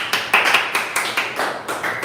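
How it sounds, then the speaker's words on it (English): A handful of people clapping briefly, sharp hand claps in a loose rhythm, close and fairly loud with no talking. "Give Joe a round of applause."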